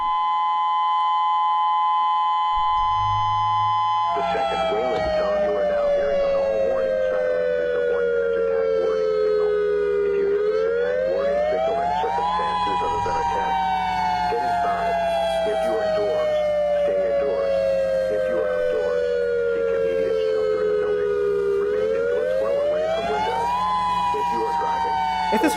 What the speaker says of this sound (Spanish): Hawái está probando su alarma contra un ataque nuclear.